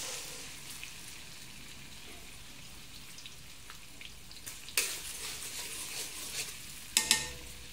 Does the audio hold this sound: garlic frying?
yes